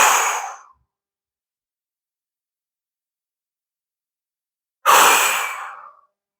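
Two strong breaths, an exhale at the start and another near the end of a floor exercise for aerial training, separated by silence; close and clear, no talk.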